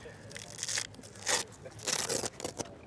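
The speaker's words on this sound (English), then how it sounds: "Undo that Velcro closure at the top" A Velcro closure on a roll-top Trash Panda bag is ripped open in several crackling tearing bursts, close and fairly loud, with a voice speaking over it.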